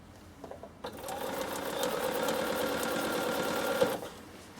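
A Bernina sewing machine runs a steady, continuous stitching burst of about three seconds, close and clear, starting after a few faint clicks and stopping abruptly.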